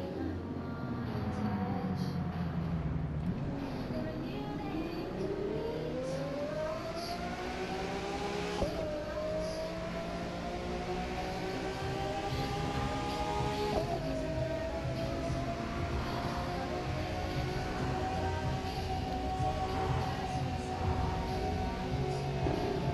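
Ferrari F12 in race mode starting up, its engine catching with a rising whir and then settling into a loud, steady idle with a few small revs, heard up close for over twenty seconds without talk.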